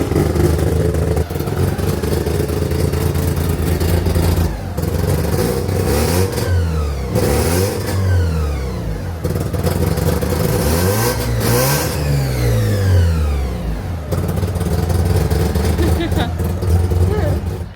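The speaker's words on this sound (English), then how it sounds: "I just really wanted to start the car up." A Mazda RX-7 engine turns over and revs repeatedly, loud rising and falling roars with clattering mechanical noise, close by.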